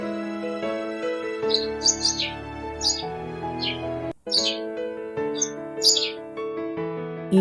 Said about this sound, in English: Sparrow, sparrow.